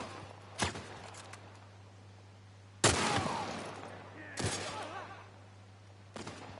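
Shotgun blasts in The Last of Us Part 1 come as three distinct heavy booms with ringing tails, and a fainter shot follows near the end, over a quiet game ambience with a steady low hum.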